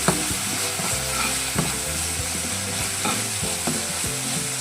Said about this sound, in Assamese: আৰু এইখিনি মই ভালদৰে লৰাই দিছোঁ